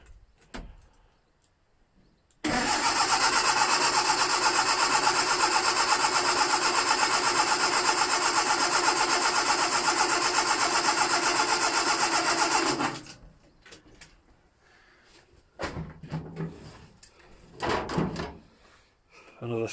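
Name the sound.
Ford Anglia classic car engine cranking and starting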